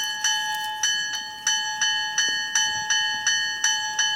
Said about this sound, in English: Let's see what the stock bell sounds like.